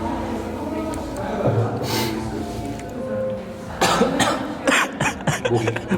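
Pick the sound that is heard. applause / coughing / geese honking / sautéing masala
coughing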